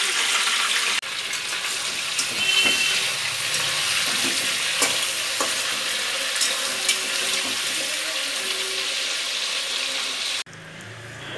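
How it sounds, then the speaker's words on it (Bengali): Steady broadband sizzling of food frying in a pan, with occasional clinks and stirring scrapes, continuous and fairly loud throughout. "চিকেনটাকে আগে ভালো করে ভেজে নেব, আজকে ফ্রাই করে করব"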